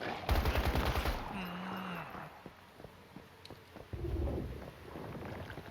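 Rain and thunder in the video game Once Human, a broad steady rain hiss with a low rumbling roll, heavier at the start and again near the end, under scattered bursts of game noise and tones.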